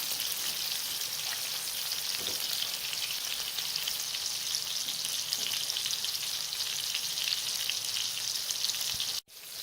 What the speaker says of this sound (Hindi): एक साइड से पक चुके हैं, दूसरी साइड से पकाएंगे इनको